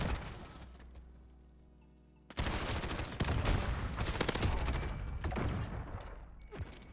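Rapid automatic gunfire and overlapping shots in a Modern Warfare firefight burst in loudly after a quieter stretch, with dense sustained volleys and sharp individual cracks continuing to the end.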